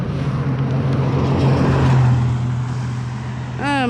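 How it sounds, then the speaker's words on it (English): Road traffic passing on a trail crossing, a loud continuous rush of cars close by, with a voice briefly at the end. "Oh hell, we got traffic coming."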